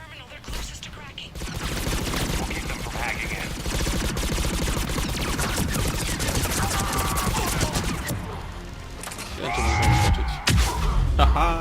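Sniper rifle fire in the video game Mass Effect 3, with sharp shots and bursts of combat noise running dense and loud throughout, under occasional game voices.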